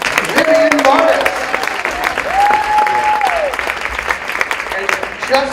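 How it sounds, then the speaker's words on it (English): Steady crowd applause fills a school gym honoring a JV volleyball senior at a Lakeside Rams match against Hot Springs, with a loud announcer voice talking over the clapping throughout. "Everybody give a big round of applause for number 9, Vivian Martis."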